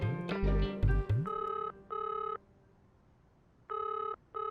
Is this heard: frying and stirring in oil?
no